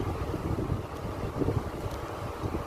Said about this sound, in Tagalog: Mahangin dito.